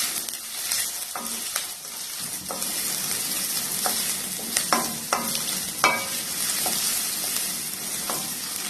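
Shallots, slit green chillies and curry leaves sautéing in a pan for Kerala kadala curry. A steady sizzle runs throughout, with scattered stirring taps and scrapes from a spoon. The sound is close and carries no talk.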